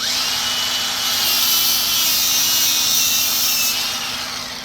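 A cutoff wheel grinds through taped fuel line for a mud truck, producing a continuous loud, high-pitched abrasive whine that holds steady for several seconds, close up with no voices.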